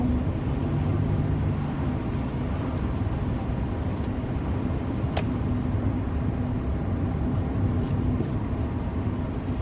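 Steady, muffled engine and road rumble from inside a Rover 45 2.0 V6 Connoisseur on the move, continuous and even throughout with no talking.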